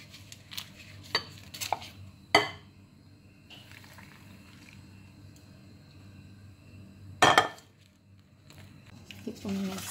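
A chicken pizza mixture is stirred in a bowl. A spoon scrapes and clinks against the bowl in a few sharp bursts, with quieter stirring sounds in between.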